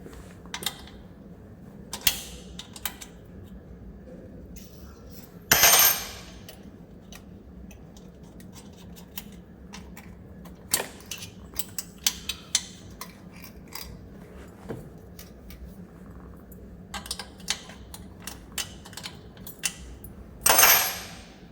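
A spanner working on exhaust valve cables of a 2022 Aprilia Tuono motorcycle, with scattered metallic clicks, taps and ticks at irregular intervals and a couple of louder clanks, close and otherwise quiet.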